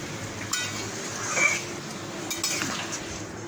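A spoon stirring garam masala powder into a curry in a pan after the flame is turned off, quiet scraping with a few light metallic clinks, near and soft, with no talk.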